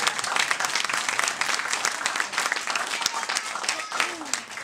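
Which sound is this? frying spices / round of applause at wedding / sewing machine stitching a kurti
round of applause at wedding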